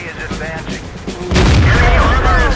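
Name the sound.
tank cannon firing in the video game World of Tanks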